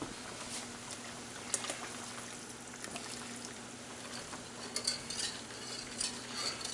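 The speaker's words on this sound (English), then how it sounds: "Give it a little bit of a whisk." Faint, continuous whisking and light scraping of a flour and beef broth sauce for sauerbraten in a pan over a soft bubbling hiss, with occasional small clinks of a utensil.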